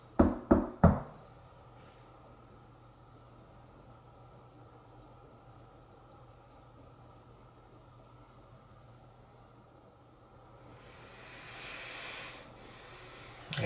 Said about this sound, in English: Can you make a knock like this?